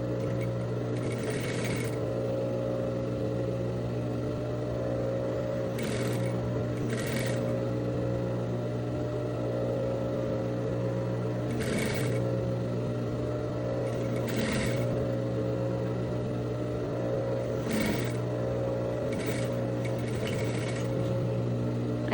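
Sewing machine stitching the fly seam of a pair of linen-style pants, a steady close mechanical hum and rapid needle rhythm running continuously, with a few brief higher clicks and rustles of fabric at intervals.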